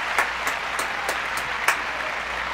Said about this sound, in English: I'm very humbled by your applause